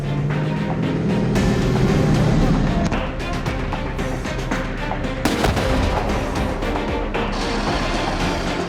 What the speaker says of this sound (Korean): K2 전차가 루마니아 현지에서 사격 및 기동 시범을 보이고 있다.